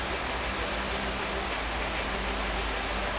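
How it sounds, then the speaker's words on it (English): Heavy rain pours down steadily over open cow pastures, a dense, loud, unbroken hiss of drops with no voices. "We are caught in the rain."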